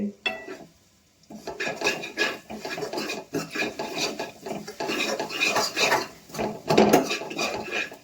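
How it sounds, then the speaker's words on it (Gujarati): A spoon scrapes and rasps against a pan while stirring a matar paneer curry, in repeated close, fairly loud strokes after a brief pause at the start, with no talk. "હવે હલાવી દઈએ."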